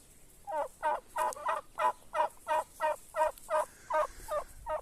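Turkeys gobble on a farm, a rapid run of about a dozen rhythmic, warbling calls, close and loud over faint background noise.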